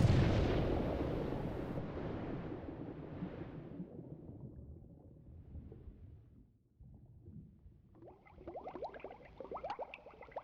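A deep, rolling explosion booms and rumbles, slowly fading, followed by scattered crackling and debris-like clatter.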